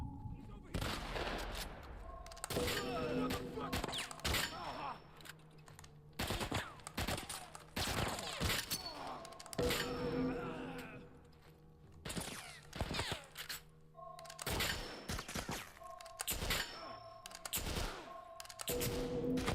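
Assault rifle gunfire in a video game, bursts of rapid shots repeating through the scene, loud and close, with game sound effects and occasional voice in between.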